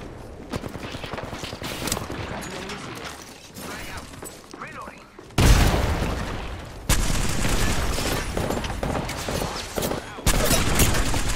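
Frag grenade detonating in Apex Legends amid a firefight, a sharp loud blast followed by rapid automatic gunfire bursts, with a player talking over the action.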